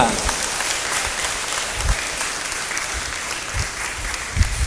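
Sustained applause from a church congregation, dense even clapping that fills the room with a hissing patter and occasional sharper slaps, with faint voices mixed underneath.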